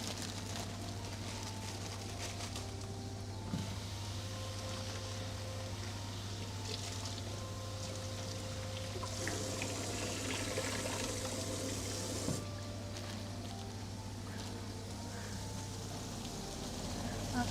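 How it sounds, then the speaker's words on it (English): Tap water runs steadily while beans are rinsed in a kitchen, a soft continuous splashing rush under a low steady hum, with a brief louder clatter partway through. "we're gonna quickly wash our beans"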